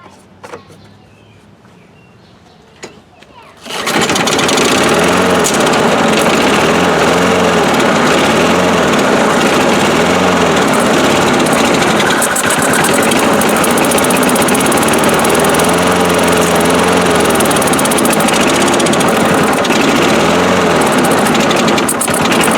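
A 2003 Craftsman 6.25 lawn mower engine catches after a few quiet seconds and then runs steadily and loudly close by, holding a rough, continuous small-engine drone to the end.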